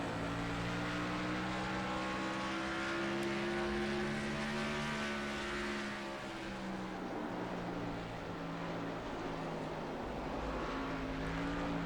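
A stock car engine in the NASCAR Racing 2003 game at Richmond drones loudly and continuously, pitch holding high then sagging slightly midway before rising again, a steady close roar with no talking.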